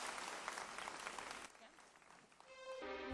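A studio audience at the 2013 TV presenter contest final breaks into applause, dense clapping that thins out midway, with a short musical sting at the end.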